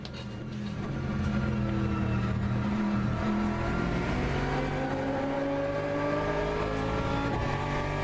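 An Aston Martin race car engine in the Le Mans Ultimate racing game, roaring steadily up and down through the revs with a rising, sustained drone, close and loud throughout, with no speech over it.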